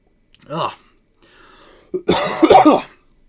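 A person coughs a few times, one short cough, then a pause, then a louder burst of rough, close coughing.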